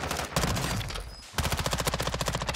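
Rapid automatic gunfire in a shooter video game on Ashika Island, loud bursts of repeated shots filling most of the clip with a short lull before another fast, rhythmic volley.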